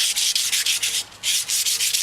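An aluminum two-piece wheel lip is hand-sanded with 320 grit sandpaper and warm soapy water, giving close, loud, rhythmic back-and-forth rasping strokes with a brief pause midway and no talking.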